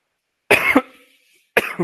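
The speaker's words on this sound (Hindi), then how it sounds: "क्या खांसी आ रही" Two sharp coughs close to the microphone, about a second apart, each short and harsh with quiet in between.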